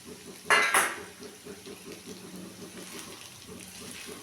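Soaked sago tipped into a pan of ghee and stirred: a sharp metallic clatter of a utensil against the pan near the start, followed by soft, quiet scraping and mixing.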